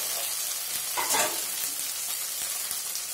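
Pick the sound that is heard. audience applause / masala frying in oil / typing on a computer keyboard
masala frying in oil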